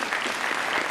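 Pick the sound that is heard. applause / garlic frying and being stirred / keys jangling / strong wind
applause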